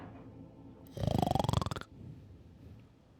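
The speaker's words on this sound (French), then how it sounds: "Oh, ça ronfle, hein." A game character in Cyberpunk 2077 gives one loud rattling snore lasting under a second, rising in pitch, with quiet ambience before and after.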